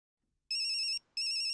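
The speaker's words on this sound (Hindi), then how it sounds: "ये बाघा क्यों फोन कर रहा है?" A mobile phone ringtone for an incoming call sounds in two loud, bright electronic bursts separated by a short gap, with nobody speaking.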